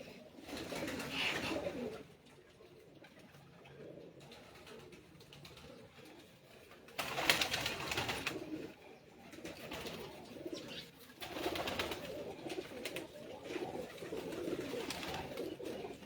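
Badshah breed pigeons coo on a rooftop in repeated soft, throaty bursts. The bursts come and go across the stretch, moderately close, with quieter gaps between them.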